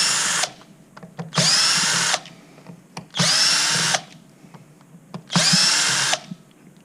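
A power drill fitted with a Phillips head bit backs screws out of a speed controller on a zip top box, running in four sharp bursts of roughly a second each, with brief pauses between them.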